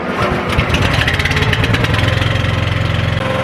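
A small engine runs steadily after a choke adjustment, a loud close chugging idle with a regular rapid pulse throughout and no speech.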